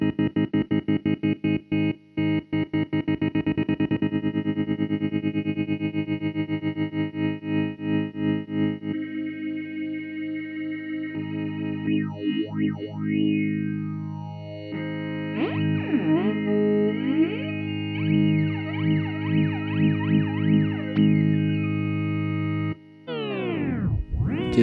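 Electric guitar played through an Electro-Harmonix Superego Plus synth pedal with a tremolo effect, sustained chords rapidly pulsing in volume, then shifting to wavering high bent notes, loud and continuous with no talk.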